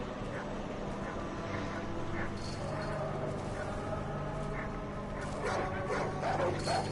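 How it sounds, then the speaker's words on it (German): Pit bull dogs bark and yip repeatedly with some whimpering in the Far Cry 5 video game, under a dense, noisy game soundscape. "Höre ich Hündli? Hundis! Oh, gib ihm! Gabel! Oh, feine Pitbull!"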